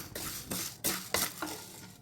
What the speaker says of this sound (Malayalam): അപ്പോൾ ചെറിയൊരു ബ്രൗൺ കളർ ആവുന്നത് വരെ നമുക്കിത് ഇളക്കിക്കൊണ്ടേ ഇരിക്കാം.